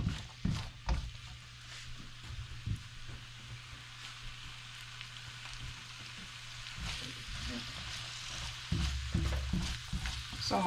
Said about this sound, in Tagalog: Kailangan igisa muna natin itong mga gulay niya.